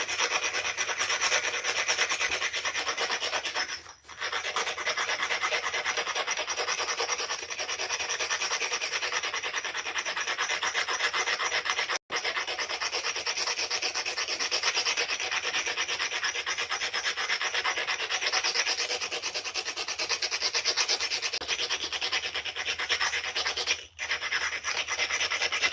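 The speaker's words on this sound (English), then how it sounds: "Likewise, I could grind them a little bit." A flint edge being ground during flintknapping, producing a continuous close abrasive rubbing and rasping that runs almost unbroken for about twenty-six seconds, with only a couple of very brief breaks.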